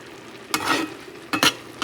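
Spinach being stirred and sizzling in a wok, with two or three scraping stirs each followed by a burst of sizzle, close and fairly loud.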